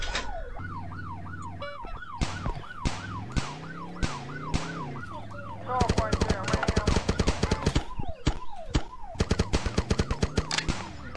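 Video game scene with wailing police sirens looping up and down alongside rapid bursts of M16 machine gun fire, loud and busy, the gunfire growing denser in the second half.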